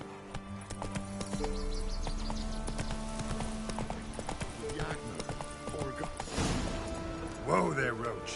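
A horse galloping in The Witcher video game, quick rhythmic clip-clop hoofbeats under a layered game music score, with a whinny near the end.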